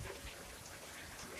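Heavy rain pours during a cold, extremely windy storm in Ohio, a steady dense hiss of drops hitting surfaces nearby with no break across the short stretch.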